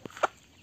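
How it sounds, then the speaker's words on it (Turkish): An Aseel, an Indian game rooster, gives two or three short, close clucks in quick succession, each a brief sharp burst in a quiet coop. "Bakın gerçekten çok iyi bir Hint horozu arkadaşlar."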